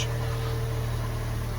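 A Fiat 500 runs in a garage, a steady low engine hum with a constant droning tone, close and even throughout the brief stretch.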